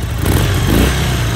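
A Harley-Davidson Sportster Iron with its stock exhaust firing up, giving a loud, close, rumbling engine burble with some mechanical clatter, steady across the short stretch with no talk.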